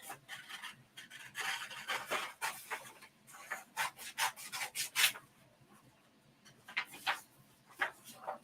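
Sublimation prints being cut out by hand, a series of close, quiet scraping and snipping bursts in an uneven rhythm with short pauses between strokes, no voices present.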